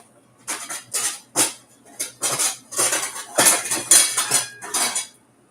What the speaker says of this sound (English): I'm probably get another pot here just because that is hot still